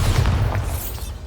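A Bombarda blast spell in Hogwarts Legacy goes off as a loud, close boom with a deep low rumble that bursts at the start and fades over about a second.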